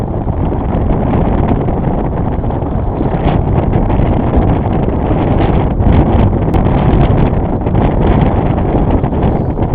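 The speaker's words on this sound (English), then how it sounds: "of course the winds start picking up again" Strong wind buffets the microphone aboard a sailboat motoring across a lake, a loud continuous roaring rumble with gusty surges over a low engine drone, no voices.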